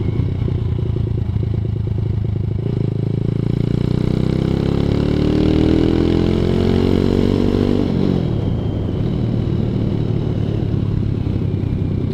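ZS190 Grom clone motorcycle on a ride, its engine droning loud and close, revving up through rising pitch then dropping back after a shift, with wind buffeting throughout.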